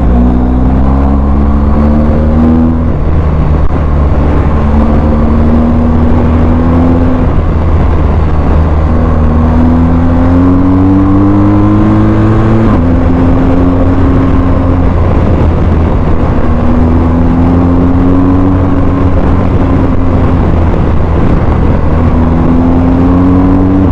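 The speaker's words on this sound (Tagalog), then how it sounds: "Sobrang smooth ng makina." A 2023 BMW R 1250 GS Trophy adventure motorcycle's boxer engine drones loudly and steadily while riding, with repeated rising gear-by-gear pitch sweeps, shifts and re-accelerations, plus heavy wind rush.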